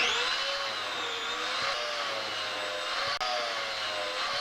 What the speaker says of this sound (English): And now to cut the top side supports.